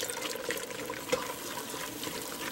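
Milk poured slowly into thickening chicken gravy gives a soft, continuous liquid trickle and gentle bubbling, close and steady, with a small splash near the middle and no voices.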